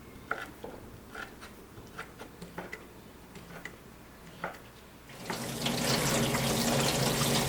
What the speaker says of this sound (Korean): 물에 헹궈 전분기를 없애면 전이 더 바삭해진다.